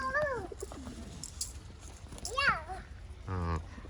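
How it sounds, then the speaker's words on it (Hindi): Pigeons cooing close by in a home courtyard, soft repeated coos mixed with a voice and other speech over a low background hum. "कबूतर हैं?"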